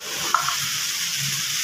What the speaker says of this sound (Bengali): এবার এটা দিয়ে একটু নাড়াচাড়া করা হবে।